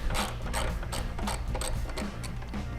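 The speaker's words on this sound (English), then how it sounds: "we're gonna start by loosening the pinch bolts on the tree" A 1/4 inch Allen wrench works loose the pinch bolts on a Harley-Davidson Road Glide ST top triple tree, giving a series of quiet, close ratcheting clicks and metallic scrapes in an irregular rhythm.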